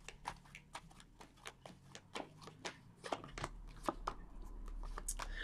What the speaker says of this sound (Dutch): En dan zal de kaarten schudden om te kijken wat deze week voor jou gaat brengen.